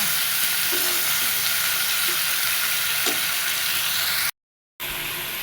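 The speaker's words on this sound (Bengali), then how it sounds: "এখন দিয়ে দিব জিরে বাটা জিরে দিয়ে ভালো মতো কষায় নেব" Cumin paste and spices fry in oil for a hilsa and ash gourd curry, hissing with a loud, steady sizzle and a few soft stirring knocks, then a brief silent gap before the sizzle resumes.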